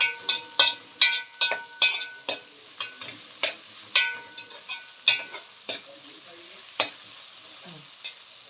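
Onion and garlic sautéing in oil and ghee, with a soft sizzle under sharp spoon-against-pan stirring clicks that come in quick bursts and then thin out, close by, no talking.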